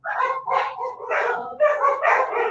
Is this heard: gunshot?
no